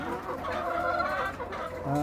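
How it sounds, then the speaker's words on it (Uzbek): Laying hens cluck steadily in a barn in a dense, overlapping chorus, close by and fairly loud, with no talk over them. "mana bu tomon tuxumdagi tovuqlar"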